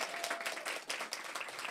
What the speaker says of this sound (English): We can have some applause for that.